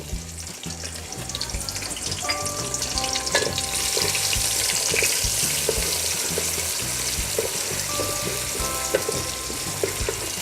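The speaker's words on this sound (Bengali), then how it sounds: "আমাদের তেলটা গরম হয়ে গেছে। এবার আমরা পেঁয়াজগুলো দিয়ে দিব।" Onions frying in hot oil on a medium flame, a loud continuous sizzle that swells as they hit the pan, with intermittent stirring scrapes and clatter underneath.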